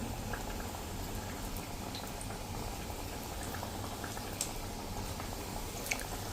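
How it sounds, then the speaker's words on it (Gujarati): Samosas fry in oil over a slow flame, giving a steady, dense bubbling sizzle with occasional sharper pops, close and continuous, with no talking. "અને સ્લો ફ્લેમ ઉપર જ આપણે આને ફ્રાય કરશું, એટલે એકદમ સરસ ક્રન્ચી બને."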